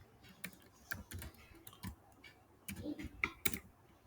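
Quiet, irregular keystrokes on a computer keyboard while a short Python print command is typed into a notebook cell. Sparse single clicks are scattered across the few seconds, with a small flurry near the end.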